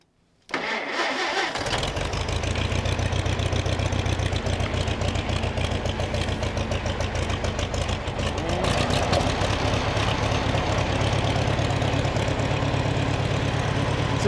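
A 1948 Farmall M tractor engine cranks and catches after about half a second of quiet, then settles into a steady, loud, rumbling idle with a rapid even chuffing beat that carries on to the end.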